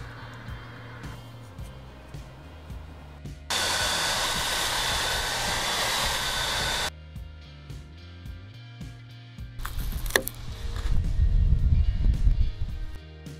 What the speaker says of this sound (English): using the hairdryer was the right call